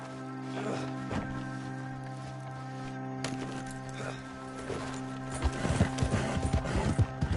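Horse hooves clip-clop steadily in a video game, set over a busy backdrop of sustained game music tones, growing louder and denser toward the end, with a brief whinny-like sound in the mix.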